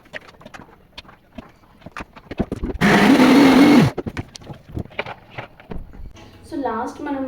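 A kitchen mixer grinder roars in one loud, steady burst of about a second while coarsely grinding soaked soya and chana dal for vadas, with a voice talking before and after.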